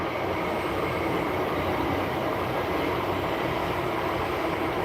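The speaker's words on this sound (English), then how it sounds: "A train gonna pass, you're gonna hear a bit of noise" A train passing outside an open window, heard as a steady, broad rumble and rushing roar that holds at an even level throughout, with no voices over it.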